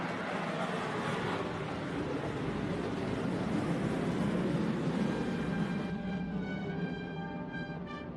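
A military tiltrotor aircraft flies over during the Salute to America event in Washington, a loud, steady roar that holds for several seconds and then takes on a humming rotor drone as it moves away. No one talks.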